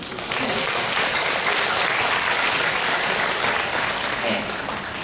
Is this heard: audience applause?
yes